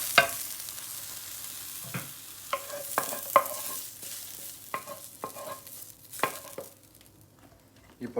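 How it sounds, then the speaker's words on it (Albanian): Vegetables frying in an oven tray or pan, a soft continuous sizzle broken by a series of sharp scraping stirs of the utensil against the metal, close and fairly quiet. "Pesë minuta dhe të gjitha perimet i hedhim në tepsi."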